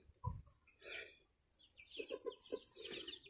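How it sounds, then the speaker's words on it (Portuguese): Chickens cluck in a backyard chicken coop with new chicks and a young rooster, several soft, irregular clucks and short calls at moderate distance in a quiet outdoor setting. "Aí ali é o galinheiro, como vocês sabem, nosso galinheiro tá com 5 pintinhos novos que a Jurema tá cuidando."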